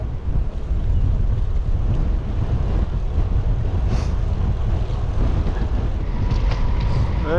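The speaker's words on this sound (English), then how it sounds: "Still pretty windy and choppy down here." Strong wind buffets the microphone at the seaside by Poole Harbour, with choppy water and waves against a harbour wall at high tide, a steady loud roar throughout.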